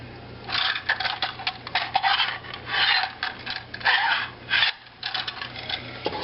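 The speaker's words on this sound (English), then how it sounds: "Let's mix up some epoxy here." Epoxy is stirred and scraped in a small container while modifying a PMag 30-round magazine, giving close, uneven rubbing and rasping strokes in bursts with brief pauses, no talking.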